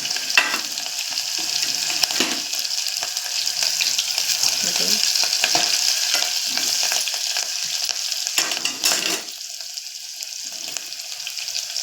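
Garlic and chillies fry in oil for a suran (elephant foot yam) dish, a continuous loud close sizzle with crackles and stirring scrapes, and a brief watery splash near the end.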